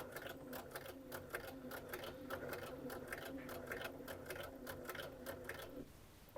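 A sewing machine stitching fabric in a fast, even run of needle strokes, close and steady for about six seconds before it stops, with no talking.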